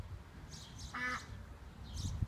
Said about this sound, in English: Hey, your neighbors, you got geese.